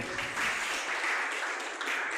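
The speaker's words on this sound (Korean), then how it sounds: "박수 한번 보내드리고요" An audience at an academic conference session bursts into steady applause, many hands clapping together at a fairly even level for a couple of seconds.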